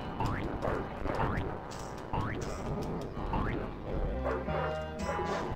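A dog in a video game gives several rising yips and barks at a steady pace, mixed with ratcheting mechanical clicks, and a droning tone comes in near the end.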